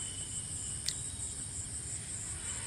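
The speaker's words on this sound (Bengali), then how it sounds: "একটা ঝিঝি পোকার ডাক হালকা" Faint, steady cricket chirping carries through a quiet outdoor evening at a village resort, a continuous high buzz with a brief louder chirp near the middle.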